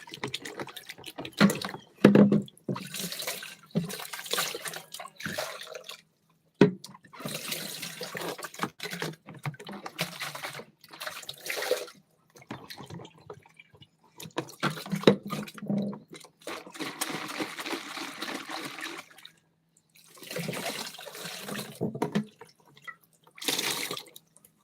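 Rain drips and splashes in a rural countryside setting: an irregular, close watery patter that comes in clusters with short quiet gaps, no voices.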